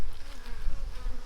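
Honey bees fill a hive with a close, continuous buzz during a hive split for queen rearing, a steady droning hum with slight pulsing swells and no voices over it.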